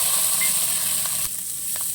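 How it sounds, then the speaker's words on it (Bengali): Ripe pumpkin fries in hot oil left in a wok after frying prawns, giving a loud, continuous close sizzle with a few faint utensil scrapes. "এই তেলেই কুমড়োটা ভেজে নেব।"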